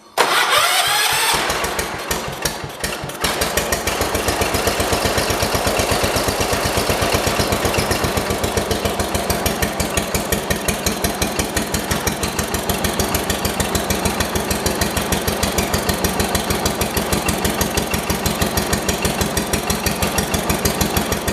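A 1977 John Deere 212 lawn tractor, left sitting for four months, cranks over and catches, then settles into a steady, loud, rhythmic single-cylinder run with choke off that carries on alone.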